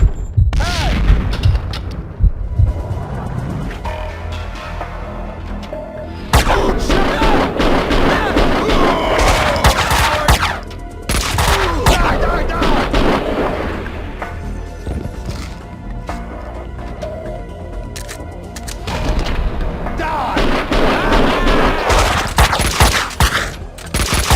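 Max Payne 2 firefight: bursts of gunfire and heavy booming blasts from a grenade, loud and dense with brief lulls between volleys, mixed with game character shouts.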